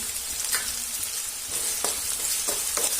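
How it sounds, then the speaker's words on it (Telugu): Onions fry with salt in a pan until browning, sizzling steadily up close, with a few brief bursts of stirring scrapes. "ఇది బ్రౌన్ కలర్ వచ్చేంత వరకు వేయించేసుకోండి"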